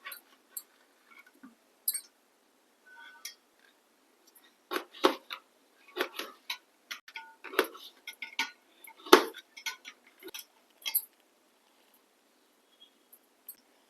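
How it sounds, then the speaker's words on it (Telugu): Vegetables being cut for a salad, scattered knife taps and clicks on a board, sparse at first and then denser in quick irregular runs, fairly quiet against a silent background. "వెజిటేబుల్ కట్ చేసుకోవటం అయిపోయిందండి."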